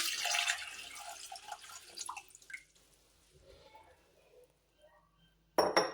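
Water from a small jug is poured into a bowl of kinnow oranges and lemons: a splashy gush at first, then scattered drips and light clinks, and a short bright splash at the very end.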